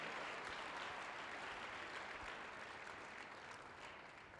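A church congregation claps together in sustained, dense applause at moderate distance, holding steady before easing slightly at the end.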